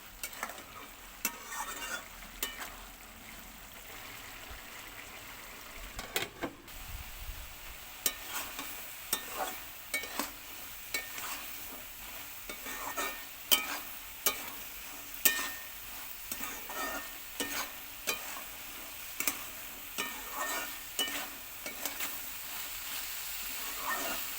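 Chickpeas fried with dried red chillies, stirred steadily in a pan, giving a continuous sizzle broken by frequent scraping strokes of the spoon, close and clear without any talk.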